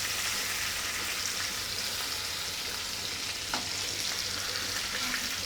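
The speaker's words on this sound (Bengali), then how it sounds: "দেখেন এভাবে করে লাল লাল করে ভেজে নিতে হবে।" Fish pieces fry in a pan with a continuous, close sizzle and occasional crackles, no voices present.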